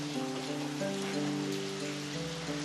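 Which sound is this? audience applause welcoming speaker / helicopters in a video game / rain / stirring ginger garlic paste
rain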